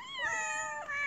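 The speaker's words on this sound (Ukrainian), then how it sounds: "Всі мої котики, всі мої і сусідські." Several cats, a household's own and neighbours' tomcats, gathering near an attic; a single clear, sustained meow with a rising then falling tone, close and fairly loud, with no talk over it.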